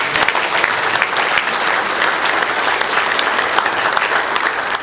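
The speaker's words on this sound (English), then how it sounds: "let's give a round of applause" A convention audience claps steadily and loudly for several seconds, a dense, even wash of applause with no voices standing out.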